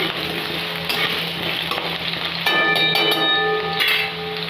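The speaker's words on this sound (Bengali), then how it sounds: "আলুটা হালকা করে ফ্রাই করে নেব" Diced potato fries lightly in a pan for a spicy marich jhol curry, giving a loud, continuous sizzle with occasional stirring scrapes and no talking.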